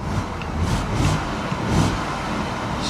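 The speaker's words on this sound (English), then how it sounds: "Let's give it a little rev." A C4 Corvette, a cheap salvage-auction car, idles with a low rough rumble and gives a few short revs that swell and fade, close by, with no talk.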